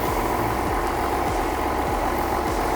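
A John Deere 6610 tractor engine idles cold in a loud, steady, close rumble that carries through the whole moment with no pauses.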